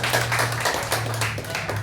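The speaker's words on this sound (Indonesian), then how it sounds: "Tepuk tangan untuk dia." A church congregation claps at a Sunday service, a short burst of brisk, steady applause with a low hum running underneath.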